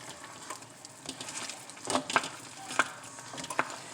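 Sugar syrup bubbling in a pot for caramel, a quiet crackling simmer with a few louder pops and stirring scrapes, close by.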